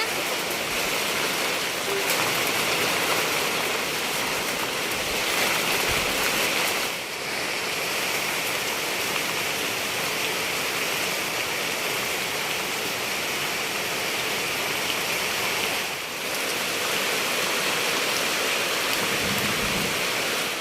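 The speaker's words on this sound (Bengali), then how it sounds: "বৃষ্টি নেমে গেছে" Heavy rain falls steadily in a Bangladeshi village, a dense hiss that carries on unbroken for the whole stretch, fairly close, with no voices over it.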